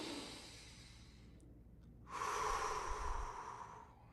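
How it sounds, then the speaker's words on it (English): A slow, deep cleansing breath during a guided mindfulness exercise: a soft airy inhale, a short pause, then a longer, fuller exhale, close and calm with no talking. "deep, cleansing breath."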